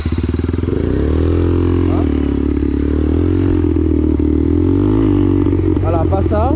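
Motorcycle engine held and revved in steps to lift a wheelie, a loud steady rumble near the microphone that rises slightly in pitch, ending with a few quick throttle blips.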